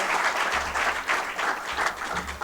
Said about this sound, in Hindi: इससे अच्छा है कि आपकी जोरदार तालियां बजें